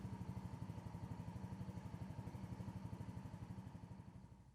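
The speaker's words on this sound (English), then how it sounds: "Finally, start the engine and check for any warning lights." A Polaris Ranger 150 engine running after a spark plug replacement, a quiet, rapid, even putter of a small single-cylinder motor, steady and slightly fading toward the end.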